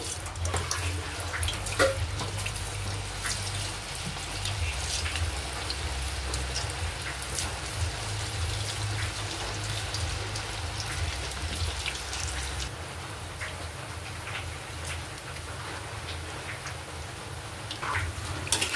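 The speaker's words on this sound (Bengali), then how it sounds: "এইভাবে আমি সবকটি ভেজে নিচ্ছি।" Palm fruit pitha (taler pitha) frying in hot oil, a steady close sizzling crackle with scattered pops that runs the whole time without speech.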